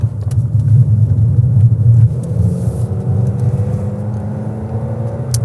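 A $32,000 car, fully loaded, heard from inside while driving, with a steady low engine rumble and road noise that swells slightly early on and then settles into an even hum.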